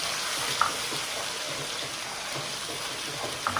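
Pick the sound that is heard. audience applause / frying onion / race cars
frying onion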